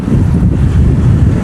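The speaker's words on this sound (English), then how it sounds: "it's hecka windy right here" Strong gusting wind in an open San Francisco park, buffeting the microphone with a loud, continuous low roar.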